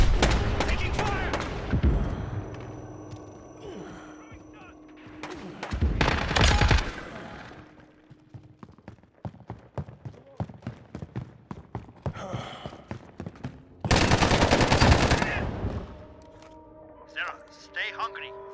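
Call of Duty: Modern Warfare gunfire in a 2v2 match with pistols, with loud dense bursts of automatic fire and rapid single shots, heavy blasts and frequent pauses, while game voices shout over the action.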